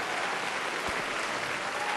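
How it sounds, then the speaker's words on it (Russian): An audience applauds steadily, a moderate even wash of clapping hands throughout with one slightly louder thump partway through, and no talking. "Спасибо за ваши, за ваши жидкие аплодисменты."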